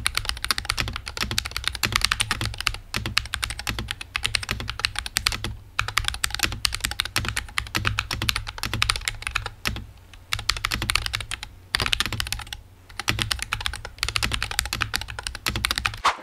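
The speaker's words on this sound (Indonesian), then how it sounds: "kita mending denger dulu dari sound test dari keyboard ini ya" Fast, continuous typing on an Epomaker HE68 magnetic-switch keyboard, crisp clacks in rapid bursts with brief pauses, close and clear with no voices.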